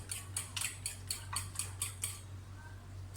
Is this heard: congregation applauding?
no